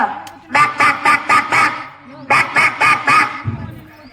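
A village government primary school child mimics a duck, a voice imitating quacking in a quick run of five honking calls, a pause, then four more, loud and close, with no other sounds.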